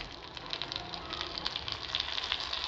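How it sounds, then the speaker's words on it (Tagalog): Minced garlic fries in bubbling butter for a garlic shrimp dish, giving off a steady, soft sizzle with fine crackling pops spread evenly throughout, close up and gentle in level. "Habang yan nagbabubbles na siya guys, ilalagay na natin agad itong ating minced garlic"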